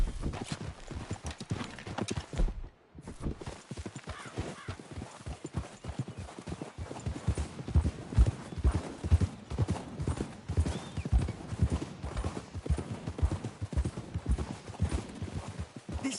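Horse hooves clip-clop steadily and close up in Red Dead Redemption 2, a quick continuous trotting rhythm with occasional soft snorts, heard alone without talk.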